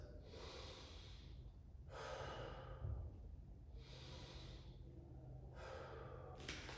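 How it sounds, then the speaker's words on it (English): Slow deep breaths during a hip flexor stretch, four long airy inhales and exhales in a steady rhythm, close and quiet with no talking. "Take about 10 deep breaths there"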